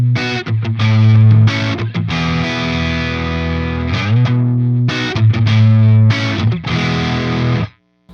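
Distorted electric guitar chords played through a Hush noise reduction pedal, loud and sustained with rhythmic strummed bursts and short stops, cutting to near silence at the end.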